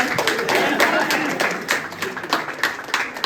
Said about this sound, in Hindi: अपने लिए तालियां बजाइए